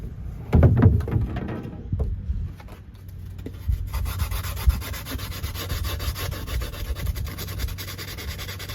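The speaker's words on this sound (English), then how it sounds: "So we are using these 100 grit sandpaper, but we really need to make some gnarly maneuvers." Sandpaper of 100 grit rubs against model railway scenery in steady, close back-and-forth strokes, a dry continuous scratching with a few light knocks early on.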